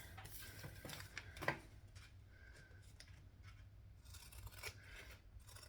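Zigzag pinking scissors snip through fabric for a handbag, a few quiet, close crisp cuts with one sharper chop, set against faint room hum and light handling rustle.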